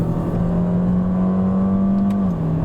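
A 2020 Toyota Corolla engine pulls in second gear while climbing a steep mountain road at Genting. It gives a loud, steady drone with a sustained hum that holds for a few seconds before dipping slightly.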